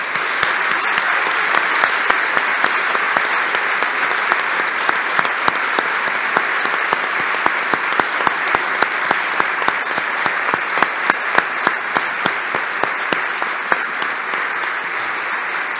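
Loud, sustained audience applause at a 2023 diploma ceremony, dense clapping with a few sharper individual claps standing out rhythmically across the whole stretch.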